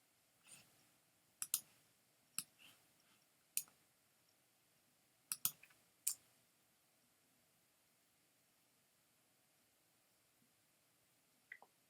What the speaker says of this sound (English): I can click out of this.